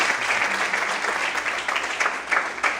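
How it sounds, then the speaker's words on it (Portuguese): Congregation clapping during a church worship service, dense continuous applause from a large group, fairly loud and sustained with no speech over it. "Quantos podem aplaudir e adorar o Senhor nessa noite?"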